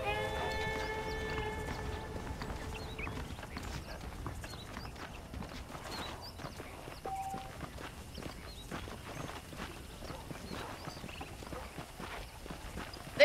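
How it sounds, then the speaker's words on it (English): Horse hooves clip-clop steadily at a walking pace in the video game Red Dead Redemption, a moderately quiet, continuous rhythmic patter with faint tonal music at the start and no talking. "The horses are saddled up over here."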